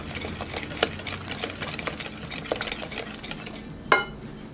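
Ingredients stirred together in a pan for lasagna: soft rhythmic scraping and mixing sounds, close and moderately quiet, with a few sharper clicks and a louder clink near the end.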